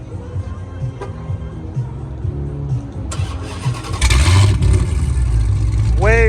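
A Dodge Hellcat Redeye fitted with catless exhaust pipes rumbles at close range, then bursts into a loud, raspy rev about two-thirds of the way through and keeps roaring to the end.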